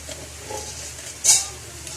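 Fried garlic is stirred into pancit bihon guisado in a pan, giving a soft steady sizzle with light scraping and a short sharp clink of a utensil against the pan near the end.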